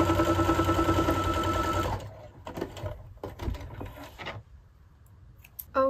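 A sewing machine tacks content and size labels onto a garment piece, running in a loud steady whir for about two seconds, then stopping and starting in short uneven bursts before a final brief run.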